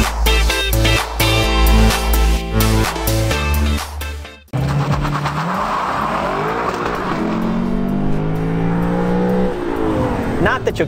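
A 2018 Lexus LC 500 V8 at wide open throttle, engine note climbing loudly through the gears with abrupt shift breaks, then a sustained rising roar with tire noise. Talk is heard over the engine.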